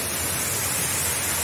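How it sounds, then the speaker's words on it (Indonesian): Natural waterfall beside a restaurant and villa in light drizzle, a continuous loud broadband roar of falling water with no voices. "Oh, cantik sekali air terjunnya"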